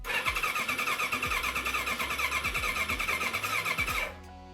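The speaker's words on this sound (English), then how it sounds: "The bike cranked up right away, but there weren't any sparks." A Suzuki GS1100G motorcycle cranks steadily on its starter without firing, a loud, even, rhythmic churning that runs for about four seconds and then cuts off.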